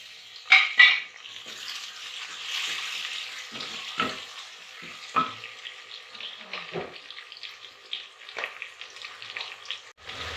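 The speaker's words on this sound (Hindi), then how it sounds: "अब इसमें हम लहसुन अदरक का पेस्ट डाल रहे हैं। लहसुन प्याज फ्राई हो चुका है।" Onion, garlic and ginger paste fries in a pot with a soft continuous sizzle, broken by several sharp stirring scrapes and clinks of a spoon against the pot.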